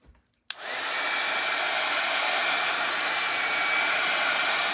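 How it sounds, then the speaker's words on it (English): A heat gun drying art paper after a wash switches on with a click and settles into a loud, steady blowing whoosh that holds constant without pause, close by and free of any talk. "I'm going to give this a quick little dry with my heat gun"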